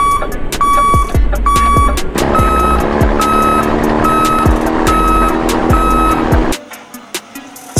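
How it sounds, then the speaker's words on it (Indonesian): A garbage truck's reversing alarm beeps steadily, a long run of evenly spaced loud tones over the rumble of the idling engine, close by, then cuts off near the end. "garbage truck berfungsi untuk mengangkut sampah dari tempat penampungan sementara ke tempat pemrosesan akhir"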